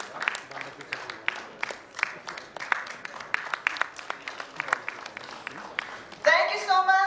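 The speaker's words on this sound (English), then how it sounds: "Please a round of applause for" Round of applause at a conference session on geostrategic rivalry among neighbouring countries, heard as scattered, moderately faint clapping that builds and then gives way to a voice at the end.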